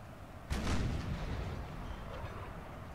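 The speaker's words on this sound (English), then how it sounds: "at this point I was telling my cannons to launch canister fire at them" A cannon booms once, firing canister shot in a Napoleon: Total War American Civil War mod battle, a sudden heavy blast that rolls off into a long rumbling tail over steady battlefield noise.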